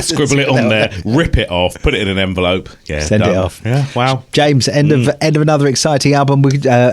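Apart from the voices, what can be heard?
None of the usual background noises is heard.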